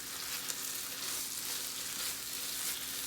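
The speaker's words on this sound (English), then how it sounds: "Just add a little bit, like a tablespoon of ghee. 1 spoon actually, that's it. And give it a quick mix." Sundal, a South Indian chickpea dish, fries in a pan with a spoon of ghee, giving a steady, even sizzle with faint stirring underneath, close and continuous.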